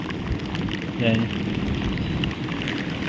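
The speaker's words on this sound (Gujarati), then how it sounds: "ને વરસાદ જો પાછો ચાલુ થઈ ગયો" Rain starts falling again over a village house under construction in Botad, a steady broadband patter close by, with a brief voice-like sound partway through.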